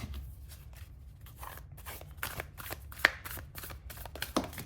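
A Tim Burton's The Nightmare Before Christmas tarot deck being shuffled up close, quick soft riffles and card slaps in an uneven run, quiet with no talking.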